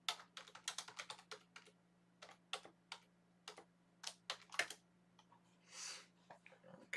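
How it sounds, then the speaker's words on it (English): Fast typing on a computer keyboard, a quiet close run of irregular clicking keystrokes in short bursts with brief pauses. "let me type something real quick on my YouTube feed"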